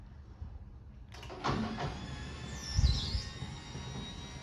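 An Odyssey 1000 garage door opener drives a garage door down: after a second of quiet, a sustained mechanical whir and rumble sets in and carries on steadily at moderate loudness, with some clatter partway through.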